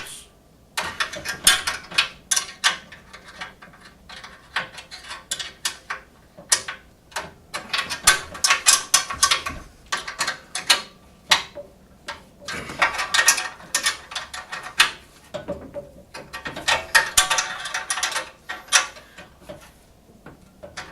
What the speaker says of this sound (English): So I can tighten up all 6 bolts.